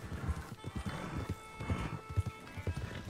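Horse hooves clip-clop in Red Dead Redemption 2, an uneven run of close, soft thuds with a whinny mixed in, under low conversation from players.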